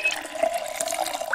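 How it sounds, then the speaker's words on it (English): In the video game Project Zomboid, water runs steadily from a tap into a water bottle as a short, close, continuous gush with no talking. "Now, let me fill my water bottle."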